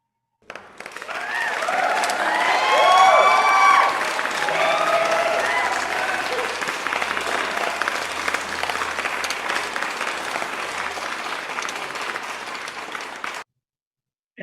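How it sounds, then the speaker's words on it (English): Sustained audience applause at a closing ceremony, a dense wash of many hands clapping that holds steady for over ten seconds before cutting off. "Please let us give a final round of applause for these outstanding delegations"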